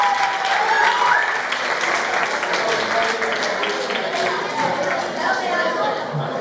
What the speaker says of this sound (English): Big applause for Nieves